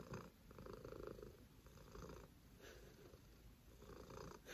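A house cat purrs steadily up close in a continuous rumbling loop, its breaths audible as rising and falling pulses with no other sound over it.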